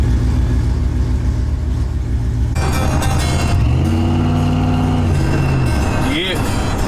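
A big truck with stock electric fans and a failed ECU drives along, its engine a steady loud rumble throughout, with a rising tonal whine partway through and a person talking over it.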